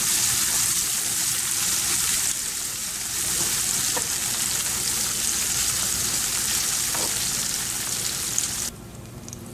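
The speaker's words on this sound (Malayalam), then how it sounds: "ഇനി നമുക്ക് മറുവശം കൂടി ഫ്രൈ ആക്കിയെടുക്കാം" Prawns frying in oil in a pan give a steady, dense sizzle with light crackling that goes on throughout and cuts off abruptly near the end.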